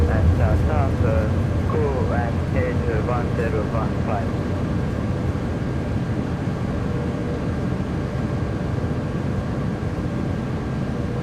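Thrust reversers of an iniBuilds A330-200 on landing in Microsoft Flight Simulator 2024, a steady, loud, broad engine roar that fills the whole stretch, with a voice talking over it in the first few seconds.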